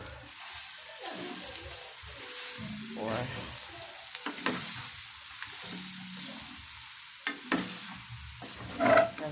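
Vegetables frying in oil for abe and bekang, a low bubbling sizzle with scattered stirring knocks and scrapes, close and moderately loud throughout.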